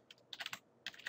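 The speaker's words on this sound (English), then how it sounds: "So we'll save this by pressing Control-O and typing a file name" Quick bursts of keystrokes on a computer keyboard as a file name is typed in the Nano editor on Ubuntu, two short clusters of crisp taps separated by a brief pause, close and fairly quiet.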